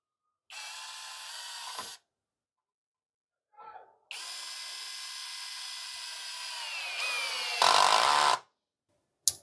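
A Tecepo 21V cordless drill driver whines through several bursts as it drives a screw, starting with a short run, then a longer rising spin and a harsh, loud final surge, all close by.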